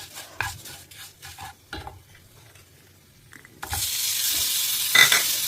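Food stirred in a stone pot for pirandai thuvaiyal: soft scraping strokes and taps at first, then a sudden loud steady sizzle of frying with a couple of clinks.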